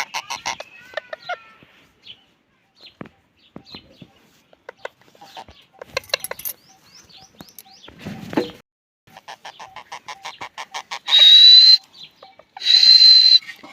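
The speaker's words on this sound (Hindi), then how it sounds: "तोता है मेरा, तोता के देखे कैसे कर रहा है" A pet talking parrot whistles and chatters in short chirps and squeaks, then lets out two loud, sustained piercing whistles near the end, close by with quiet gaps between calls.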